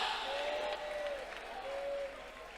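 A church congregation clapping hands during a prayer service, a soft continuous patter of many hands, distant and faint under a sustained tone and murmured voices.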